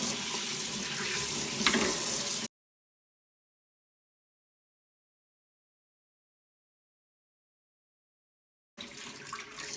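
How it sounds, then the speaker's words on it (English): Tap water runs steadily while a kitchen is rinsed during cleaning, a brief splashing stream that stops abruptly, leaves a long silence, then starts again near the end. "so now let me wash it off."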